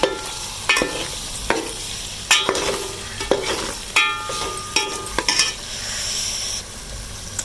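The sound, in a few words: masala being stirred and fried in a pan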